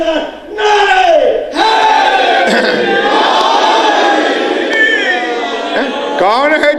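A large crowd at a religious majlis gathering roars out slogans in unison, loud and close, in repeated surging bursts of collective shouting that fill the space.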